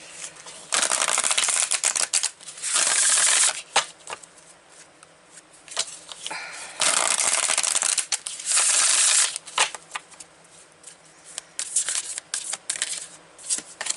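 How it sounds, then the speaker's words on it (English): Repeated bursts of crisp, riffling oracle card shuffling, close and fairly loud, with short pauses between each shuffle. "Let's really shuffle them."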